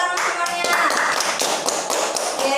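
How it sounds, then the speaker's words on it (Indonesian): Students in a classroom clap their hands together in a dense, lively burst of overlapping claps that continues steadily, with some talking mixed in. "tepuk tangan semuanya"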